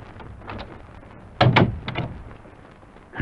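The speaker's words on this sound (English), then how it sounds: "Close the door." A door being shut in an old radio drama scene, a solid thunk with a brief rattle, fairly close, followed by a second knock-like bump near the end.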